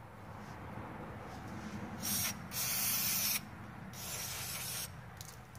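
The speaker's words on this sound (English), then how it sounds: "If you can just spray it all over the complete machine" Sharp bursts of cleaner spray hiss over a snowblower in several short pulses, close and fairly loud, with a low steady rumble underneath.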